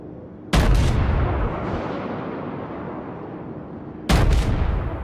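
Battleship gun salvos in World of Warships, the German Nassau firing: two sharp, heavy booms about three and a half seconds apart, each followed by a long rumbling decay.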